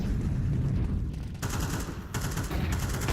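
Counter-Strike match gunfire, with dense rapid shots and bursts layered over continuous game noise, loud and unbroken for the whole stretch, with a sharper bright blast partway through.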